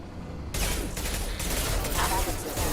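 Video game gunfire striking the player, a sudden dense burst of rapid shots that keeps hammering steadily, loud and continuous with faint talk mixed in.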